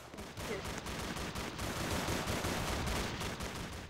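Rapid automatic gunfire from a weapon in a video game, dense continuous bursts of shots at steady volume, with a short pause near the start.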